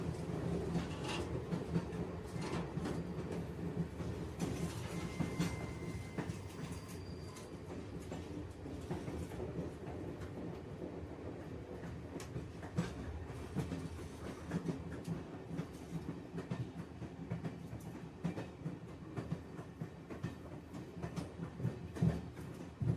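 An old, crowded immigrant train running on rails: a continuous low rumble with recurring clickety-clack of wheels over rail joints, sustained at an even level the whole way.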